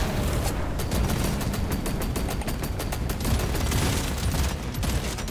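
Dense, rapid automatic gunfire from the video game Deep Rock Galactic: Survivor rattles on without pause, loud and close, in a continuous fusillade with no talking.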